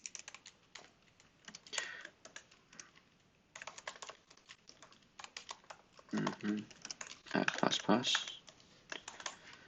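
Steady, close computer-keyboard typing while JavaScript code is written, irregular bursts of keystrokes over about ten seconds with a brief spoken word in between.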